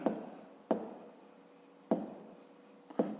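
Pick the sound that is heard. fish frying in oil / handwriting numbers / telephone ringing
handwriting numbers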